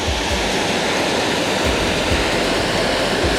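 Carter Falls, a wilderness waterfall, roars as a loud, steady broadband rush of falling water, constant and close with no voices.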